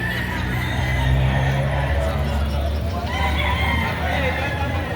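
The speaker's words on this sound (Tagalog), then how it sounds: "Gulang na rin itong kay Bossing na manok." Roosters and chickens crowing and clucking at a busy poultry market in Batangas, close and loud amid steady crowd babble, with people talking nearby.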